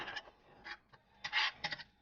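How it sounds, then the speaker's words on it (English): Thick Dona Maria mole paste being smashed and broken up in a pan, giving several short, soft scraping and rubbing bursts up close, irregularly spaced and fairly quiet. "you just want to smash it down on something so it can dissolve"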